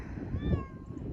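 A single drawn-out cat meow, clear and fairly close, with a rising then falling pitch over low background rumble, at a barn or house on a snowy day.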